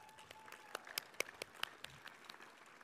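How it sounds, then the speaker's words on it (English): Sparse, scattered claps from an audience at a building dedication for a renovated 1928 agricultural and biological engineering building, a few distinct hand strikes spaced unevenly over a quiet room, faint and thin rather than a full ovation. "I want to give a round of applause to everyone who helped to make this building"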